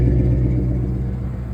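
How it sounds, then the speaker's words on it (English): A steady low exhaust rumble from an idling 1996 Ford F350 XLT crew cab pickup, continuous and fairly loud with a deep, even throb. "So it has a nice little rumble to it."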